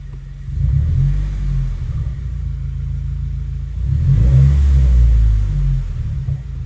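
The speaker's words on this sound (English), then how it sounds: "Give it a little blip of the throttle." A 2015-or-later Subaru WRX with a COBB stage 1 tune idles with a low rumble, then a throttle blip briefly swells the engine note before it settles back; close and steady, no speech.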